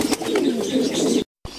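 Pigeons at the nest, including a brown grizzle, giving a soft, close, low warbling coo that runs steadily, then cuts out briefly before resuming.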